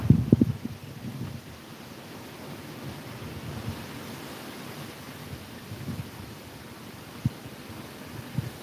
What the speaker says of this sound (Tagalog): Ang lakas kasi ng hangin bigla pumasok dito sa may bintana.